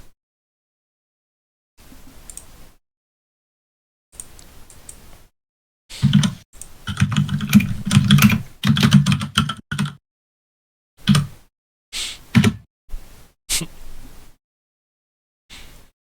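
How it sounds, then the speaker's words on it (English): Typing on a computer keyboard comes in separated bursts of close, crisp key clicks, with a denser run of clattering in the middle and long silent gaps between. "I was also typing that."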